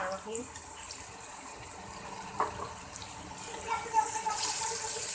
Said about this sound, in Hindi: पानी का छिटा लगाऊंगी ताकि फ्लेवर इनहेंस हो जाए